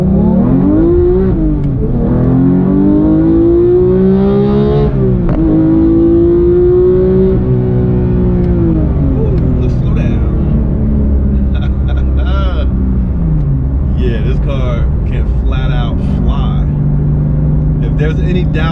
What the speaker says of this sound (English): So I'll give you guys a pull from a stop, no traction control.